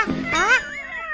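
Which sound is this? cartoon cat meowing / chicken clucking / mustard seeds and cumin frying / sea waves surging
cartoon cat meowing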